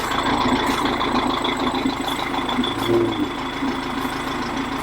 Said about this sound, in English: Seems like a little bit of a different sound to it. A little throaty rumble with that gooseneck on there.